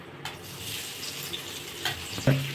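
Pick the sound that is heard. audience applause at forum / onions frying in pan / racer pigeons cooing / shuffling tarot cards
onions frying in pan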